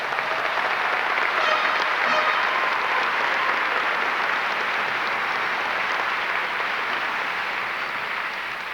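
An audience at a high school graduation ceremony applauds the class of 2003, steady, full clapping from a large crowd that carries on evenly throughout and tapers only slightly at the close.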